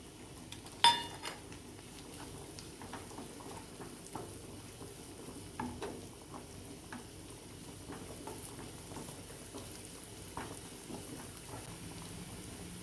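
Cut capsicum fries with prawns in a pan for schezwan fried rice, making a quiet, steady sizzle broken by a few clinks and stirring taps, one sharp knock near the start.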